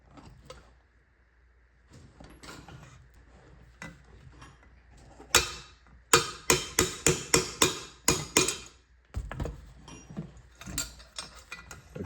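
Hammering on a power steering rack from an FC Mazda RX-7 to knock out the seal and washer: a quick run of sharp, loud metallic strikes in clusters, with quieter tapping and gaps between.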